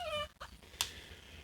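A Rottweiler and Australian Shepherd mix dog gives a brief high whimpering whine, then a short yip, close and faint in a quiet setting.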